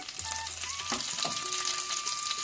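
Curry leaves crackle and sizzle in hot oil while an aloo fry is being cooked, giving a steady close frying hiss with a few sharper pops, plus faint tonal background sounds.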